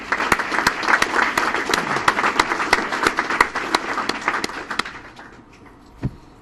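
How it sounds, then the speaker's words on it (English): An audience claps for the U.S. Army at a ceremony, a lively round of applause with sharp individual claps that thins and fades out toward the end. "Let's give one more big round of applause to the U.S."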